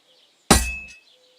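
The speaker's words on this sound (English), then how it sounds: "if it was all about hitting an anvil with a hammer, any dolt could do it" A hammer strikes an anvil once in Kingdom Come: Deliverance II, giving a loud, sharp metallic clang whose bright ring decays over about half a second before quiet returns.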